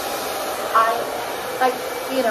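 A hair dryer blows with a steady, airy whir, its pitch shifting slightly a couple of times as it runs.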